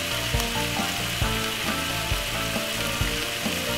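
Chopped vegetables cooking down with chicken in a pan for tortilla wraps, a continuous moderate sizzle with a few soft clicks and scrapes, no voices.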